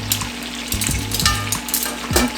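Onions sizzle and fry in a pan for a steak meal, a steady hiss and crackle with a few stirring clinks of a utensil against the pan, close and unbroken by talk.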